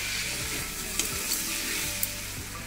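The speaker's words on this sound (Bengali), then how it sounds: "আমি কেটে রাখা পনির আর টমেটো একসঙ্গে দিয়ে দিচ্ছি।" Diced paneer and tomato hitting a hot oiled pan, a loud continuous sizzle with a few sharp spatula scrapes and stirring knocks.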